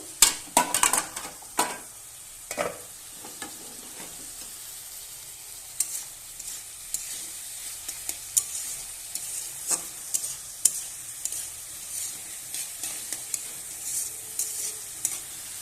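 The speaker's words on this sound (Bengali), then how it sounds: "এবার ভালোভাবে কষে নেব আলুটাকে।" Potatoes being stir-fried in a pan for an egg and potato curry, heard as a quiet sizzle under repeated sharp spatula scrapes and clinks against the pan, irregular and close.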